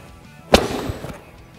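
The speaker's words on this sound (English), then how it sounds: "made their turn, I took a shot." A single sharp .50 caliber airgun shot fired while hunting, a loud close crack with a short decaying tail outdoors.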